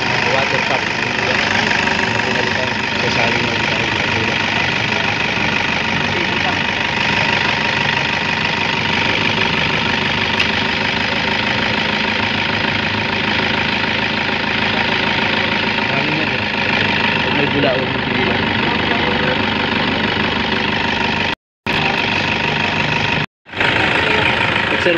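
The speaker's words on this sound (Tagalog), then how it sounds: "Guys, umandar na yung ating water pump." A Toyota Innova D4D diesel engine idles after a new water pump has been fitted, giving a steady, close clattering hum that runs with no breaks until two brief dropouts near the end.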